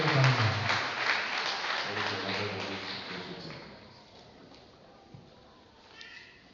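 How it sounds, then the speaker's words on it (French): Applause from a church congregation welcoming a preacher to the pulpit, loud at first then thinning and fading out over several seconds, with voices mixed in. "Sous l'acclamation, nous allons inviter Emmanuel Abba."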